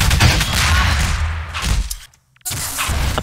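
Rapid bursts of gunfire and thuds from a Half-Life 2 Deathmatch 2v2 match, loud and close, broken by a brief dead silence before the shooting resumes.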